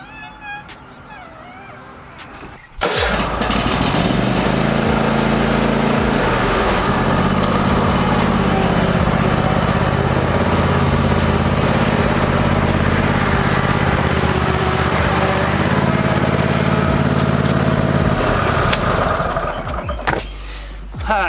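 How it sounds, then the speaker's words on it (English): A Cub Cadet ZT1 42-inch zero-turn lawn mower starts up and runs steadily and loudly close by, its engine drone holding level for nearly twenty seconds before easing off near the end. "got a new mower. got the Cub Cadet. It's the ZT1 42-inch cut."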